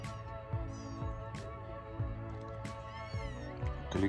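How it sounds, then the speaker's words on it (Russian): Several cats meowing together in a chorus, repeated overlapping meows at a steady rhythm, fairly close and moderately loud, with no talking. "Коллективное мяуканье."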